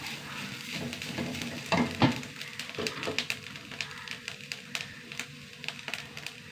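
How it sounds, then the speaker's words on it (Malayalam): Five dry red chillies and six or seven small shallots heat in a dry pan, making a soft sizzle with irregular sharp ticks and clacks close by as the pieces are stirred and shifted, and no one speaks. "എരിവിന് ഒരു അഞ്ച് വറ്റൽമുളക് മുളക് ഒരു ആറേഴ് ചെറിയ ഉള്ളി ചെറുതാണ് കേട്ടോ ഇത് വെറുതെ ചൂടാക്കുക"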